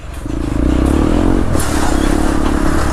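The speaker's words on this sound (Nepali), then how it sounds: "आवाज त कतिको राम्रो आउँदैछ है बाइकको, एकदम बेस नोट दामी आइरहेको छ" Hero Xpulse 200 motorcycle fitted with an Akrapovic exhaust, converted for dirt riding in Sikkim, giving a deep bassy drone that climbs slightly as it revs, loud and close throughout with a brief clatter midway.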